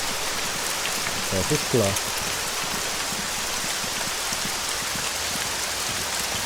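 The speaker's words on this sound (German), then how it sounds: "Der Regen ist echt laut hier." Heavy in-game rain in the video game Altis Life, a steady, loud, dense hiss that fills the whole stretch, with someone speaking briefly over it early on.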